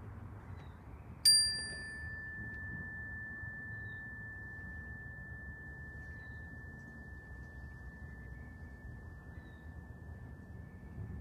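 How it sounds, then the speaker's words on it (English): A single mindfulness bell strike rings out clearly, then a pure sustained tone slowly fades over several seconds against quiet background hiss. "I'm going to ring the bell, and I encourage you to listen to the sound of it until it ends"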